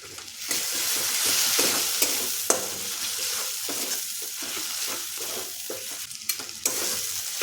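Spice masala with crushed kasuri methi being stirred and fried in oil, a steady broadband sizzle under repeated scraping strokes of a spoon against the pan, close and continuous with no talking.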